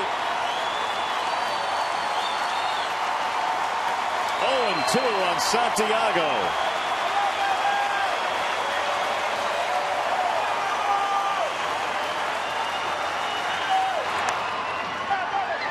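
Baseball stadium crowd at a Mariners–Tigers game rising to its feet, a steady broad roar of cheering and applause sustained throughout, with a play-by-play announcer talking over it.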